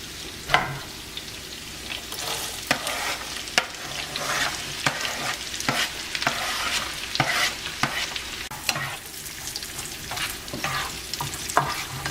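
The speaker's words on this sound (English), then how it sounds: "So we'll stir this up for several minutes." Sausage and vegetables fry in a pan for turkey stuffing, a continuous close sizzle broken by repeated scraping strokes of a spoon stirring the mixture, with no talking.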